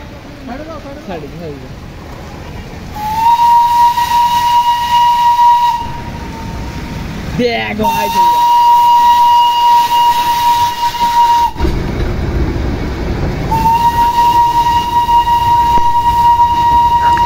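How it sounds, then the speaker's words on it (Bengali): A toy train on a hill railway sounds its horn in three long sustained blasts separated by pauses, loud and close, with rumbling running noise and people talking in between. "আমরা টয় ট্রেন দেখতে দেখতে আমাদের সেই টয় ট্রেনের স্টেশনে পৌঁছে গেছি"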